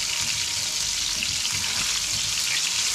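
Meat croquettes simmering in tomato sauce in a frying pan give off a steady, close bubbling sizzle that stays even from start to finish.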